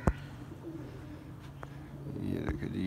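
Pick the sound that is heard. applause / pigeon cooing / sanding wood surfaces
pigeon cooing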